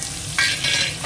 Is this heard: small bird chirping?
no